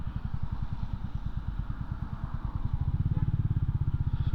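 A Royal Enfield 350 motorcycle engine thumps steadily at slow riding speed, its single-cylinder beat even and close, with the rhythm quickening slightly and growing louder near the end.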